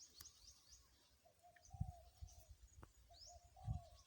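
Decoy dove calling, soft low coos repeated twice against faint outdoor ambience, with distant chirping birds in the background; fairly quiet and alone, no talking.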